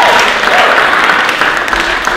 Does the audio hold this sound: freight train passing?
no